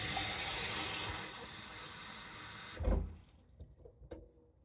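Tap water runs steadily into a measuring cup in a kitchen sink, a loud continuous hiss for nearly three seconds that cuts off abruptly, followed by a few faint clinks and handling sounds.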